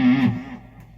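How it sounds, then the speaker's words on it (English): A Silveray Custom Deluxe electric guitar played through distortion rings out in a single loud, buzzy chord that fades away over about a second. "Let's put the distortion on."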